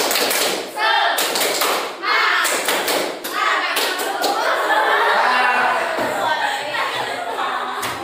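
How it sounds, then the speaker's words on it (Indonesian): A small group of students in a classroom lesson performs a rhythmic spirit clap, sharp claps and thumps landing in quick patterned bursts, mixed with chanted voices and a few short pauses between rounds. "kelompok C tepuk semangat"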